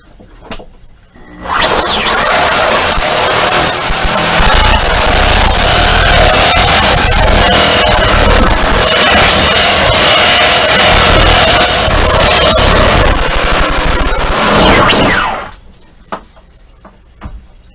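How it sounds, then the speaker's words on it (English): A Sawzall reciprocating saw cuts through a sewing table during a sewing room remodel, loud and close, with a sustained buzzing, whining cut of about thirteen seconds that starts and stops abruptly, no voices. "the old Sawzall will make it work."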